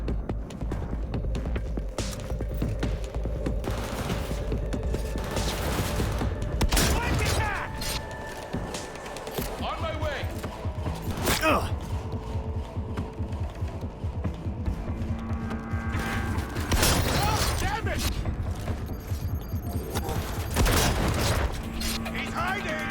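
Anti-tank weapon firing in Cyberpunk 2077, heavy booming shots and bursts of gunfire over a steady mechanical rumble, loud and repeated across the stretch, with a voice talking over it.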